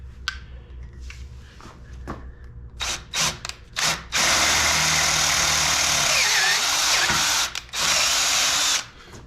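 A power drill bores through a metal part for a DIY PrintNC CNC Y axis, starting with short bursts and then settling into a long loud whine, with a few brief pauses and a final burst.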